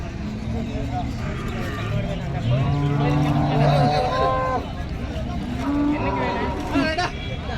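Cattle moo repeatedly amid a busy crowd at a cattle market in Tamil Nadu, with people talking and engines rumbling in the background.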